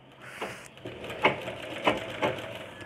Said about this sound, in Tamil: அப்படியா கொஞ்சம் கொஞ்சம் கொஞ்சம் கொஞ்சமாக தைங்க